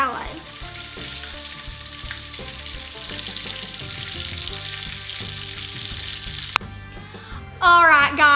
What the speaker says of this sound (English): Put that thing into a pan of hot oil.